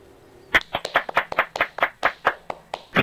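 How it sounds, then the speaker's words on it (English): Clapping in a GTA 5 game scene, a dozen or so sharp, evenly spaced hand claps that sound like one or two people rather than a full crowd, close and clear with no talk. "Let's all give him a big round of applause"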